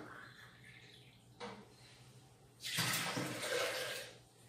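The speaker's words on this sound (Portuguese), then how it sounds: "Aí você vai colocar uma lata de água morna." Warm water pours into a blender jar for homemade bread batter, a splashing, gurgling pour that starts partway through and runs loudly for about two seconds, preceded by quieter kitchen handling sounds.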